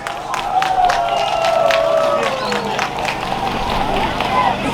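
Audience applause at a Christmas performance by children from Drohobych in the village of Mshanets, with soldiers in attendance. Steady clapping fills the whole stretch at close range, mixed with crowd noise and a voice or tone over it.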